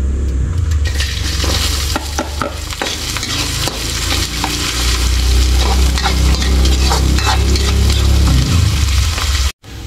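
Garlic, onion and ginger fry loudly in a hot pan, a dense continuous sizzle with spatula scrapes and clinks against the pan throughout, close up and without talk.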